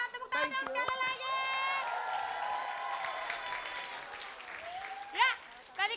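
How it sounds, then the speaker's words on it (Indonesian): An audience applauds at a televised dangdut variety show, with a bright wash of clapping under excited voices and cheering, moderately loud throughout. "Kita tepuk tangan dong sekali lagi."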